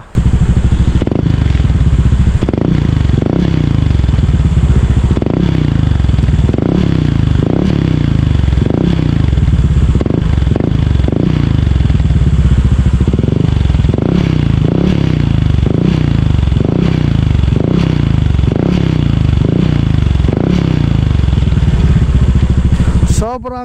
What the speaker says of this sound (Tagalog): para lumabas yung tunay na lutong ng tambucho